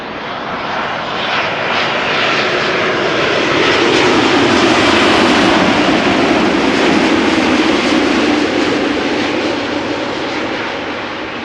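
Aircraft PH-TFM, nine years old, lands at Schiphol Airport with a loud, continuous broadband engine roar that swells and holds steady throughout.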